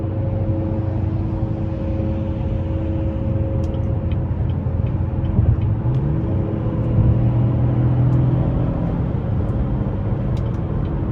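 A 2019 Chevrolet Impala LT V6 accelerating to pass on the road, a steady low engine rumble with road and wind noise heard from inside the cabin.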